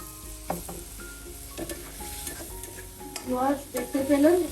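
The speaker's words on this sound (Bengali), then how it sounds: "পুঁই শাকের ডাঁটাটা নিলাম, শিম আর বড়ি আর চিংড়ি মাছ, এগুলো দিয়ে আমি একটা সবজি রান্না করছি" A vegetable curry of Malabar spinach stems, flat beans, lentil dumplings and shrimp cooking in a pan, with soft sizzling and intermittent stirring clinks, while voices talk over it.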